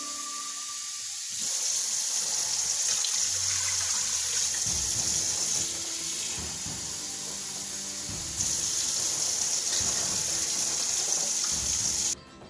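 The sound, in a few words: water pouring into a cooking pot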